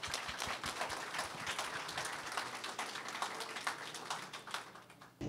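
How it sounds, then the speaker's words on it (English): Steady audience clapping fills a community neighborhood leadership meeting, a dense, even patter of many hands sustained throughout with no voices rising above it. "Let's give them a round of applause."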